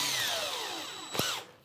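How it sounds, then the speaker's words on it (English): A power drill bores a pilot hole for a screw into the back edge of a wooden workbench part, a sustained whine with shifting pitch that ends in a brief sharp burst, close and alone. "I'm going to pre-drill the holes."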